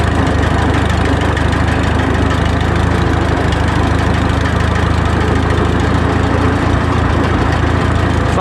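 A 1954 Farmall 300 tractor engine running, a loud continuous low chugging rumble with a steady rhythmic knock, close and unbroken, with no voices.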